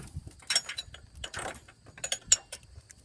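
A ratchet torques down a power steering sensor bolt on a 2004 Dodge Durango with short bursts of fast metallic clicking, close and fairly quiet, separated by brief pauses.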